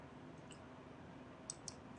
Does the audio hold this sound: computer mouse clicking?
yes